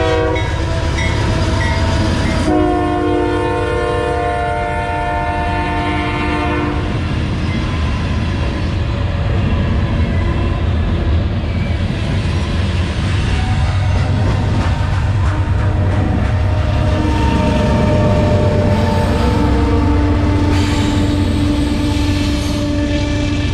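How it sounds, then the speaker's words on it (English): Freight train rolling past up close and loud, its horn sounding in long blasts at the start, followed by a continuous heavy rumble and rhythmic wheel clatter that persists throughout. "And a lot of freight trains move through here and stuff."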